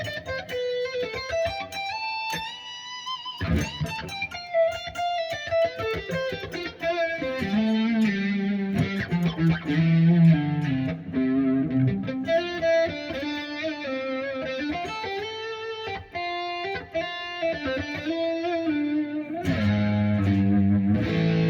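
A GOC Satya+ headless electric guitar played through its neck pickup with effects and distortion, giving a steady run of notes and chords under a chorus-tinged, slightly reverberant sound that stays loud and continuous with no talking.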